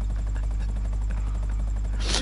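A helicopter in the video game GTA gives a steady, loud rotor drone with a low throbbing hum that holds throughout, swelling into a brighter whoosh at the very end.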